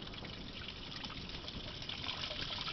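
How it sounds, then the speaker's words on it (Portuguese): Strong jet of water gushing from an open tap, a steady broadband rush that holds even and continuous throughout with no pauses. "Olha o jato de água, ó, quer ver?"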